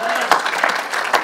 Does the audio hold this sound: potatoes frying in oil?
no